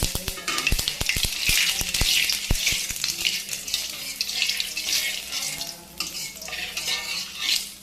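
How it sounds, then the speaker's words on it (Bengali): Cumin seeds sizzle in hot oil in a wok, with a steady bright crackle and spitting throughout, broken early by several sharp clinks of a utensil against the pan. "কড়াইয়ে তেল দিয়েছি, তেল গরম হয়ে গেছে। একটু জিরে ফোড়ন দিয়ে নিলাম"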